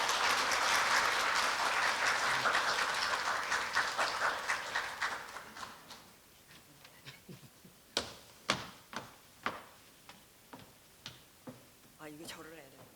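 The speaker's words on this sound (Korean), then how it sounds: "큰 박수로 맞이해 주시기 바랍니다" An audience claps warmly for a professor at a Korea University leader lecture, the applause fading after about six seconds into a few scattered, sharp claps and light stage noise.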